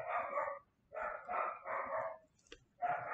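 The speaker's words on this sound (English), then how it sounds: "of course the dogs start barking." A dog barks in short bursts, three or four quick volleys close by, with brief pauses between them.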